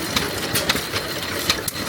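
An engine runs steadily at a county fair, its exhaust pipe giving a bassy, throbbing idle with a regular rhythmic pulse, close and fairly loud, with no voices.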